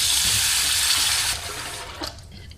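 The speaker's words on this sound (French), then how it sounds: "Je vais recouvrir le riz d'eau froide" Cold water pours steadily from a tap over rice being rinsed in a pot, a loud continuous rush that cuts off partway through, leaving quieter trickling and a faint clink.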